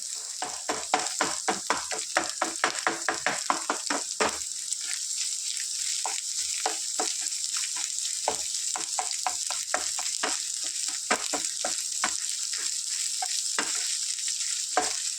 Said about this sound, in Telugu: దీన్ని ఒక ఫైవ్ మినిట్స్ ఫ్రై చేసుకున్నాం